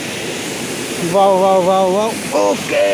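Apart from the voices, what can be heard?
waterfall rushing water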